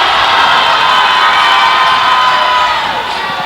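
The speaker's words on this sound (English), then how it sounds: "McLaughlin crowd now getting into the game." A loud crowd cheers and shouts without letup at a boys' high school basketball game in a gym, the noise holding steady before easing slightly at the end.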